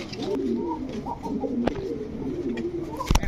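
An orange Chila pigeon pair with stone-coloured eyes coos in continuous low, warbling rolls close by, with a few sharp knocks and a short burst of noise near the end.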